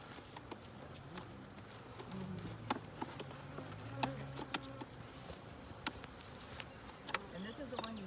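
Honeybees hum from an opened beehive during an inspection, a low steady buzz under people talking, broken by sharp clicks and knocks of frames being handled.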